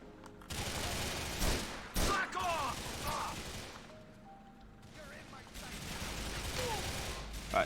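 Rapid bursts of gunfire in Grand Theft Auto IV, loud clattering volleys and single shots scattered across the scene, with game voices and effects mixed in.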